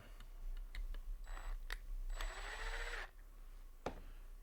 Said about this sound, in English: So I'm going to take that screw out.